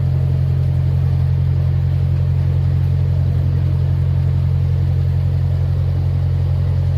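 Car driving steadily after a gearbox change, a loud continuous low engine drone and road rumble holding an even pitch throughout, with no talking.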